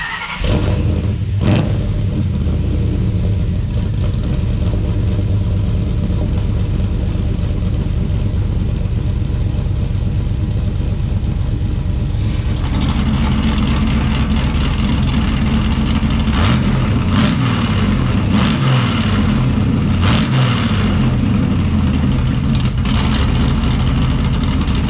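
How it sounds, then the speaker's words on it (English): A Blueprint Engines 377 stroker V8 in a muscle truck with Holley Sniper fuel injection starts and idles with a loud, deep, lopsided rumble, then revs up in repeated swells and settles back, running steadily throughout with no talk. "let's go ahead and crank this thing up and show you guys what the 377 sounds like"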